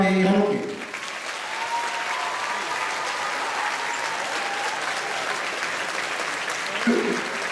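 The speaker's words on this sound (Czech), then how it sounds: "obrovský potlesk" Audience applause at a Czech dance show, a steady dense wash of clapping that swells in after a brief spoken line at the start and carries on evenly at moderate loudness.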